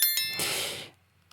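A bright notification bell chimes once with a ringing tail that fades within a second, followed by a faint tick, heard alone.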